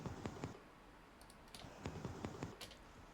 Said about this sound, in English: But did you hear the clicking at the end?